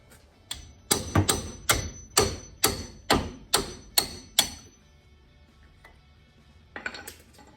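Metal-on-metal hammering on a wrench to break loose a brake bolt on a Chevrolet S10 4x4, about nine sharp clanging strikes in a fairly steady rhythm, then a pause and a couple of lighter taps near the end.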